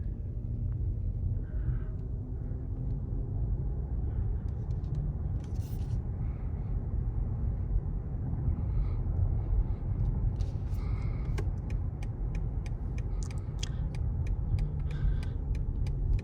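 A BMW i7 electric car drives with a steady low road rumble and tyre noise heard from inside the cabin, broken by a run of faint ticking clicks near the end.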